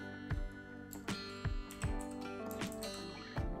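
Keys clacking on a computer keyboard as a command is typed into Windows Command Prompt while fixing a pendrive format error; about eight distinct, fairly close taps spaced unevenly over a few seconds, with no speech.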